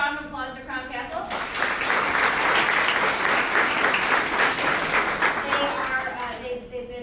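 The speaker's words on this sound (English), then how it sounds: "So let's give a round of applause to Crown Kastle." Audience applause at a panel event hosted by a security company and a cancer softball group, rising from faint scattered claps into full, loud clapping from a crowd, then fading, with talk faintly at the start and end.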